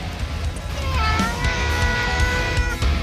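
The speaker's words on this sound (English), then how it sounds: "cats." Cats meowing inside a vehicle on a road trip, a drawn-out wavering meow rising over steady low road and engine rumble.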